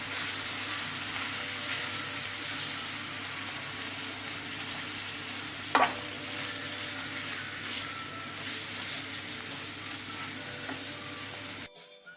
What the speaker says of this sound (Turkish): Evet soğanlarımla biraz kavurdum.